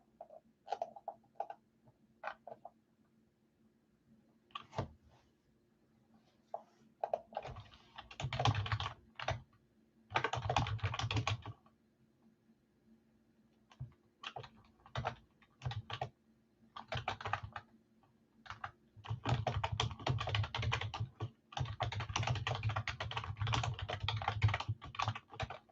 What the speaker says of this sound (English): You hear me click, click, click on the keyboard, which I'm sure is lovely.